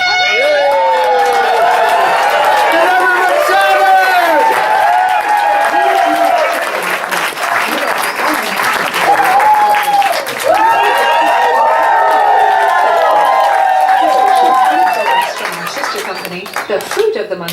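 An audience claps and cheers loudly for a magician's vanishing bandana trick, with excited children's shouts and whoops riding over the sustained applause before it thins out near the end.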